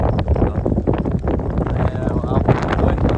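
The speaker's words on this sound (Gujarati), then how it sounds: "અને અત્યારે જોવો કેટલો બધો પવન છે." Strong wind gusts across an exposed lakeshore campsite ahead of rain, a loud steady roar buffeting the microphone, with a voice talking over it.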